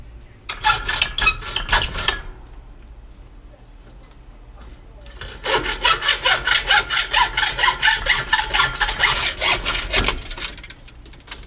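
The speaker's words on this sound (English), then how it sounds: "So now I'm going to cut up the wheel and see what I can do." A bicycle wheel is cut with a saw, heard as two bursts of rapid back-and-forth rasping strokes, close and loud, separated by a quiet pause.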